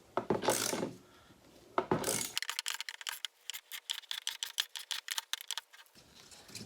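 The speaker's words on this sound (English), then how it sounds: "we're just compressing this spring so that we can loosen this nut safely and pull the old strut out" A spring compressor is ratcheted down on a 4Runner's strut coil spring, making rapid clicking pawl ticks in bursts, close and clear, after a stretch of broadband rustling noise at the start.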